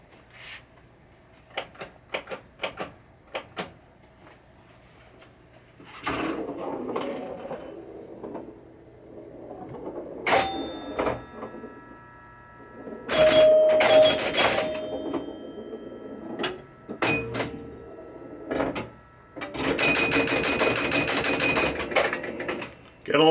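Skylab pinball machine in full play, with scattered clicks and mechanical knocks building into dense bursts of ringing chimes and rapid tallying rattles near the end, loud and close with no talking.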